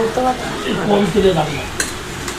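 Chicken is stirred in a small wok with little oil, making a short burst of scraping, stirring and light sizzle, with a few clinks against the metal.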